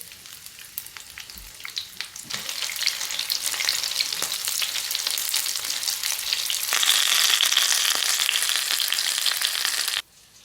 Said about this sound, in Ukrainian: Роблю середній вогонь і підсмажую з обох сторін.